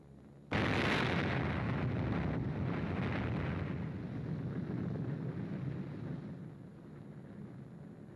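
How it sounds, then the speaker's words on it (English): Archival film of the atomic bomb exploding over the North Factory District of Nagasaki: a sudden loud blast after half a second, then a sustained roaring rumble that slowly fades over several seconds, with no speech. "This bomb, exploding over the North Factory District"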